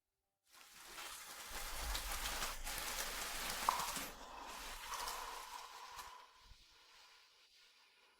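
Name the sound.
rain falling outside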